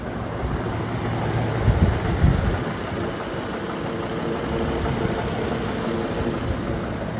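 A Ford 6.8L Triton V10 engine idles steadily in a truck at close range, a continuous low rumble with two brief louder bumps early on, then an even drone to the end.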